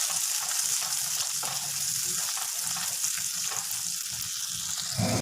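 Spice masala for a paneer curry fries in oil in a pan, a continuous bright sizzle with soft stirring scrapes, close and steady with no talk.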